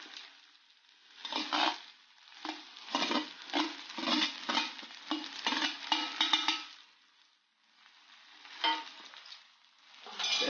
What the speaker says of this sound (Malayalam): ആ തേങ്ങ തിരുമിയെടുത്ത് ഇതിൻ്റെ കൂടെ നമ്മൾ മിക്സ് ചെയ്യാൻ പോവുകയാണ്.